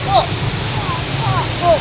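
Water rushing along an Amazon Express river raft ride at an amusement park, a steady broadband wash of flowing water heard up close with faint voices over it.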